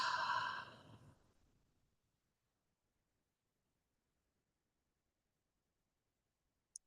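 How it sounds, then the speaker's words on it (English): A deep breath exhaled slowly through the mouth during a guided meditation, a single soft sigh fading out over about two seconds, followed by near silence and a tiny click at the end. "let's take one more deep breath in and exhale through the mouth"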